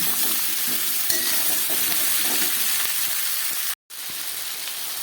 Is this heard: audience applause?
no